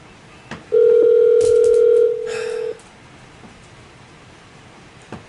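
A telephone call ringing out: a steady, loud ringback tone sounds for about two seconds, then a softer tone follows briefly before it stops, with faint clicks and room noise around it.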